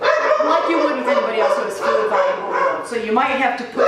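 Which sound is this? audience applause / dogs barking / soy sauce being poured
dogs barking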